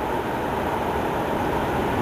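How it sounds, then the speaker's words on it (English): A light rail train passes close by a bridge, its steady, loud rumble and rolling wheel noise filling the whole stretch without a break, with no talking over it. "But that is a light rail train."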